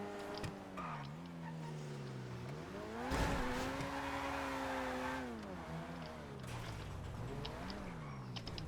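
A car in the video game GTA 5 drives with a steady engine drone that rises and falls as the revs shift, plus a burst of tire skidding midway, quite faint throughout and without speech.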